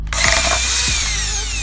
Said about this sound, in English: you're drilling into your car